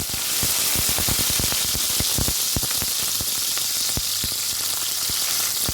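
Onions and green chilies sizzle steadily while frying in a pan, with a dense, continuous crackle broken by sharp pops and spits, loud and close, no voices.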